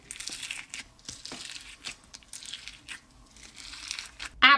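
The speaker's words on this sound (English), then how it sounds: "Let's go ahead and hear that sound. It should be crunchy from what it looks like." Crunchy slime squeezed and poked by hand, giving soft crackling, crinkly crunches in irregular bursts close up, ending in a sharper louder crackle.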